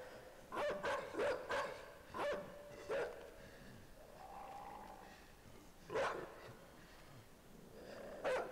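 A dog barks in the side-scrolling video game INSIDE, giving several sharp separate barks spread across the clip over a dim, low game ambience, with no one talking.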